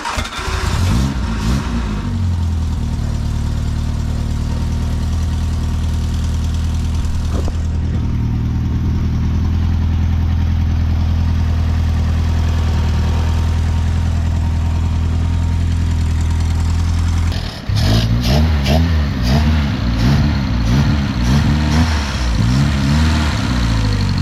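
An Austin Ten Special car engine turns over and fires, then idles steadily with a low, rumbling beat before being revved in several loud, close bursts that settle back toward idle.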